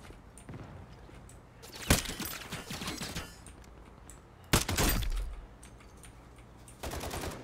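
Gunfire in the video game Warzone on Rebirth Island during a trio match: loud bursts of automatic fire and sharp single shots in several volleys, with quieter game ambience between.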